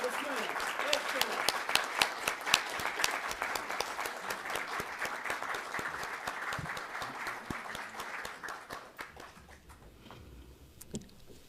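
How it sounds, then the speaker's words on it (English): An audience at a reparations convention applauds a speaker being introduced, with dense clapping that is close at first and stays fairly loud before it thins out and fades toward the end. "Please give a round of applause for the Honorable Salas Muhammad with his"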